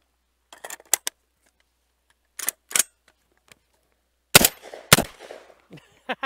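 Black Aces Tactical Core 12 semi-automatic shotgun firing low-report shells: a handful of sharp, short cracks and clacks come in spaced pairs, muted rather than booming, with quiet gaps between them.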